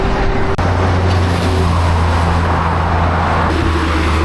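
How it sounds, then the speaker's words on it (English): A truck passes close on a road in Thailand with a loud, steady broadband rush and a deep engine drone that holds for several seconds, no speech. "That truck nearly took me out."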